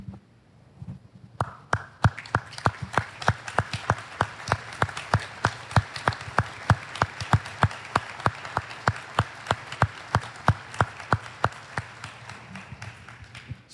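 Sparse applause from a church congregation, scattered claps in a steady rhythm that swell slightly and continue for several seconds, fairly close with no voices.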